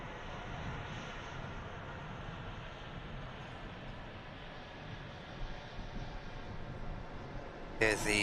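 A Vueling airliner in from Barcelona comes in to land at Manchester Airport, its engines a steady broad roar with wind buffeting, rising slightly near the end.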